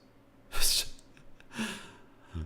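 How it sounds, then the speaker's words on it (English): A sharp sneeze bursts out, followed about a second later by a softer breathy exhale, close to the mic with no talking. "Sneeze so strong it sent me back to middle school."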